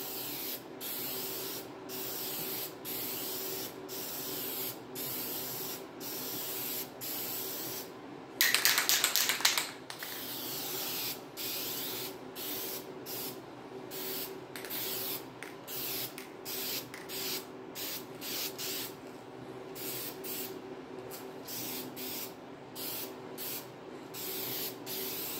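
A spray can paints the oil pan of a 1968 Pontiac GTO 400 in short, repeated hissing bursts, close and loud, with brief pauses between passes and one longer, harsher burst partway through.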